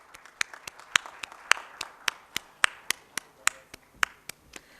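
Applause at an insurance conference in a Mumbai hotel comes across as evenly spaced, crisp claps, about three per second, close and distinct rather than a dense crowd roar.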